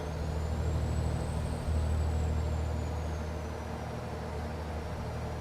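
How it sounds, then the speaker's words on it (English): Fire trucks pass by on the road with a siren wailing faintly in the distance, rising and falling over the heavy drone of traffic and nearby truck engines, with a brief louder rumble as they go past. "there goes the fire trucks again"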